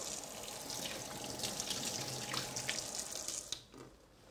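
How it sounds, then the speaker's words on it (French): Hot water runs from a kitchen tap over the base of a terrine mould holding chocolate-glazed frozen foie gras, a steady close rushing splash that stops abruptly near the end. "je passe le fond de ma terrine sous l'eau chaude pour faciliter le démoulage"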